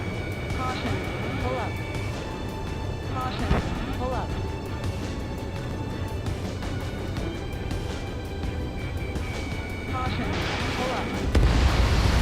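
Explosions and booming fire in Ace Combat 7: Skies Unknown over a constant roar of battle and aircraft noise, with scattered impacts and a heavier blast near the end; radio voices talk over it.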